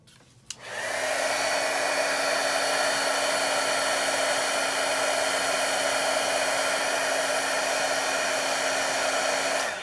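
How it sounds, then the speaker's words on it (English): A heat gun blows steadily for nearly ten seconds after a sudden click on, melting embossing powder on paper for craft work, a loud even whoosh with a constant motor tone. "the embossing powder with the heat gun, it goes from like a granular opaque to shiny"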